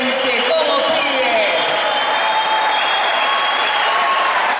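A packed festival crowd at the Fiesta Nacional de la Guitarra in Dolores, Argentina, claps loudly and continuously, with light cheering mixed into the sustained wash of applause.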